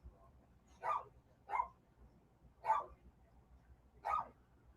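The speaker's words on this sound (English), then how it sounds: "Don't you girls start barking." Four separate barks from a small group of female dogs, evenly spaced over a few seconds and fairly close, with a quiet background between them.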